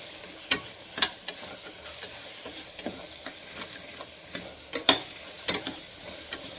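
Masala for mutton keema frying in a pan with red chilli powder, a soft steady sizzle broken by sharp scraping clicks of a spoon stirring every second or so.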